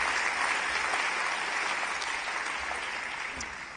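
An audience at the 2026 Ockham New Zealand Book Awards ceremony claps for the writers, a sustained, even round of applause that tapers slightly toward the end.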